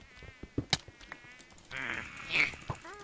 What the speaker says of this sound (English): What's that buzzing I hear?